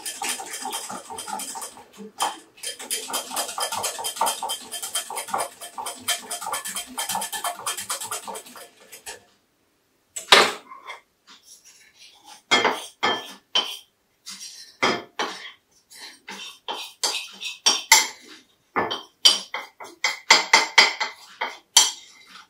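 Cornstarch is stirred into cold milk or water in a bowl with a utensil: about nine seconds of quick continuous scraping and clinking, a brief pause, then slower, irregular knocks and swishes against the bowl, close and fairly loud, without talk.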